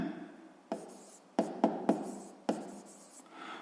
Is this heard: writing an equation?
yes